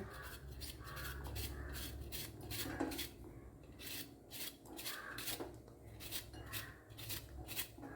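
Quiet, rhythmic knife strokes chopping bitter gourd on a board, a run of soft repeated cuts with short gaps, faint and close.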